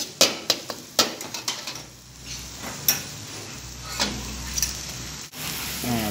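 Chopped garlic frying in leftover oil in a wok makes a soft sizzle, broken by sharp clicks and taps of a utensil against the pan, loudest early and thinning out later.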